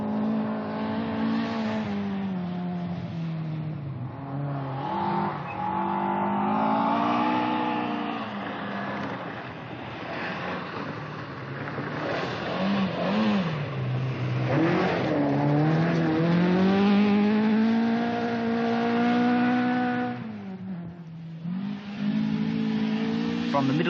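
A 1979 Ford Escort rally car, a powerful Mass Sport model, races at high speed on a flat tyre running on its rim, its engine droning and surging continuously through the whole stretch, loud and close, with a commentator talking over it.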